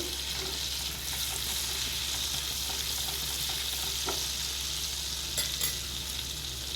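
Cheese sauce in a pan being stirred after ajwain seeds and crushed garlic go in, a steady sizzling hiss with soft scraping of the spoon throughout and no talking.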